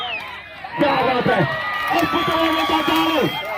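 A crowd at a kabaddi final between Dharwad and Bagalakot erupts in loud cheering and shouting, with many excited voices rising together close by after a brief quieter moment.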